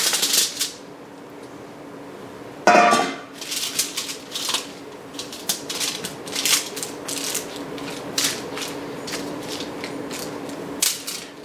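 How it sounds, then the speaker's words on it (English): Aluminium foil is pressed into a baking dish, making loud, close crinkling and rustling bursts, with one big crumple early on followed by irregular crackles and pauses. "I'm going to line it with foil"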